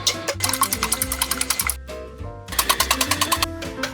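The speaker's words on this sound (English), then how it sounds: "now you start with the whisk" An electric hand whisk mixes egg yolks for a lemon Torta Caprese in a cooking class, a loud buzzing motor with rapid rhythmic pulses, pausing briefly midway before starting again.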